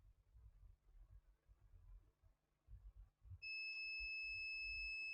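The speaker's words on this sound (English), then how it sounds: "Check this side, ground is beeping." A multimeter gives a steady continuity beep, a clean sustained electronic tone starting partway through, as its probes touch a capacitor and ground on a laptop motherboard; quiet handling noise comes before it.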